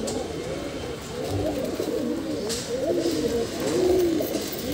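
Several pigeons eating bread coo steadily nearby, soft throaty warbling calls overlapping continuously with light rustling beneath.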